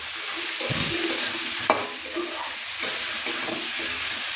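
Ginger-garlic paste frying in a pan for a Bengali banana-flower and prawn dish, with a moderate sizzle and several sharp clinks and scrapes of a spoon stirring it, close and without any talk.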